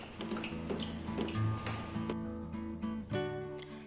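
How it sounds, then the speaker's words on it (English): Rain falls outside a stone house in Portugal, with steady drops and patter near the window and a busy wash of water sounds throughout. "I love the sound of raindrops falling."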